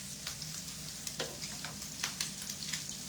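Crab cake patties, a lighter Maryland style with dill and garlic, sauté in a hot pan, giving a steady close sizzle with scattered crackles and pops, and no talking.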